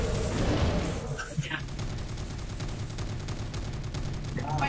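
Gunfire rattles within a video game, sounding as dense bursts of shots over a busy, loud mix, while people talk over the action.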